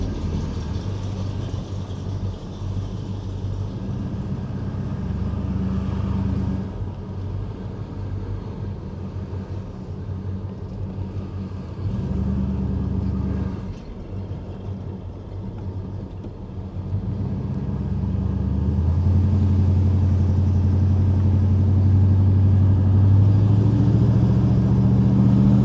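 A 1987 Chevrolet Monte Carlo SS Aerocoupe drives a short way up the road, its engine a low steady rumble heard from inside the car, dipping and swelling with throttle and growing louder and deeper toward the end.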